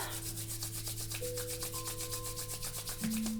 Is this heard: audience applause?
no